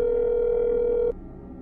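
The telephone dial tone from the video game That's Not My Neighbor plays as a steady, loud, continuous hum for about a second, then cuts off abruptly, leaving a quieter background.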